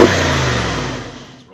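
A Mercedes G Wagon 4x4 Squared pulls away, its engine loud and revving hard at first, then the roar steadily fades as it drives off into the distance.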